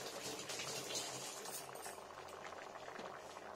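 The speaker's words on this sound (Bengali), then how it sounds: "ফুটে যাবে একটু প্রথমত।" Spinach curry bubbling in a pan on the stove, a steady close boil with dense popping and simmering throughout, no voices.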